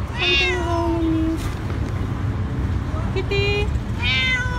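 A hungry, sick stray cat meows for food outdoors, close by. Several drawn-out meows come in bursts over a constant background hum, and a person speaks softly between them.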